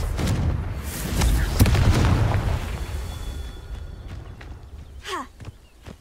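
Confringo spell blasts in the Hogwarts Legacy video game: booming explosive impacts with rumbling low end, followed by crackling effects and a rising magical whoosh, close and loud over game ambience.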